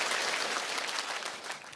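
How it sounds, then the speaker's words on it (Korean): A short burst of dense audience applause at a company event, continuous crowd clapping, fairly loud and even throughout. "우리 자신들을 위해서 박수 한번 치도록 하겠습니다"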